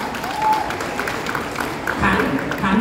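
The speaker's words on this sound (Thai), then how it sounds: "ขอเสียงปรบมือพี่หลองครับ" Audience applause at a Thai boxing film launch event, a short burst of clapping rising under an announcer's amplified voice and swelling again near the end.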